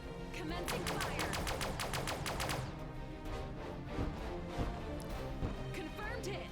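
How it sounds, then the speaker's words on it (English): Pulse cannons firing in the space combat game Sunrider: Liberation Day, a fast evenly spaced volley of about a dozen sharp blasts, then scattered impacts and rumbling explosions, under a quiet music bed. "Let's try the pulse cannons now. Commencing fire."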